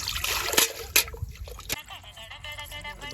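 Raw chicken for a chicken dum biryani is washed under running water, a steady trickle with sloshing and sharp splashes close by.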